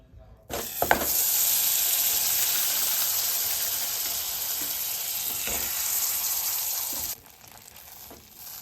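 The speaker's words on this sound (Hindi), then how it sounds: "तो सबसे पहले हम बटर को एक सॉस पैन में मेल्ट करते हैं।" Butter melting in a saucepan gives a loud, steady sizzle and hiss that starts abruptly, holds for about six seconds, then drops to a quieter crackle.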